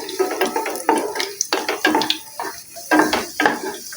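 Raisins, cashews and almonds fry in ghee while being stirred in a pan, making close, uneven bursts of sizzling and sputtering with scraping pauses between them.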